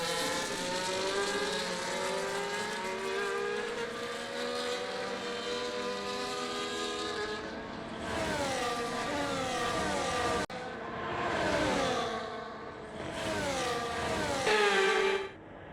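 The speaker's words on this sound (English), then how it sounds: "HawkGames gets past BigBenn with the aid of DRS as we start lap 3." Formula racing cars from an F1 video game roar steadily past on track, engine tones rising and falling as cars overtake one another, loud and continuous with no talking.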